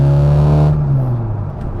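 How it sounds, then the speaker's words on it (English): A classic Mini Cooper with a John Cooper Works conversion drones loudly through its exhaust with a steady harmonic tone, then eases off as revs drop, the note fading into a lower hum. "That is a really great sounding exhaust."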